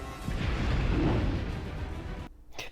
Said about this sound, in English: Obligatory shot with explosion behind.